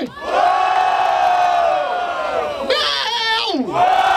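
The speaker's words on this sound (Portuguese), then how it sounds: "Barulho para as rimas do Ghost" A crowd at a rap battle in Barueri, São Paulo, roars and cheers with sustained shouting and whoops, loud and close, rising again near the end.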